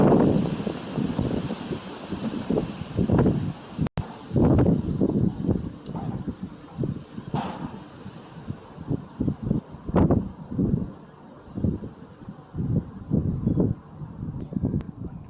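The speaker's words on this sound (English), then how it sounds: "And I'm pausing due to the wind." Gusty outdoor wind buffets the microphone at a locomotive photo shoot, making uneven low rumbling bursts that swell and drop repeatedly over the whole stretch, with no voices.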